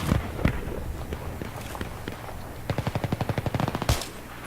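Battlefield 3 gunfire crackles in scattered shots, then a rapid, evenly spaced burst of automatic fire rattles close and loud.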